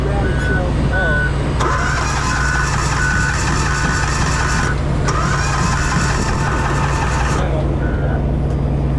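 A pony motor, the small starting engine on heavy equipment, is cranked and tried while hauling a load, its mechanical churn steady under a loud idling engine drone with brief beeping tones, and people talk nearby.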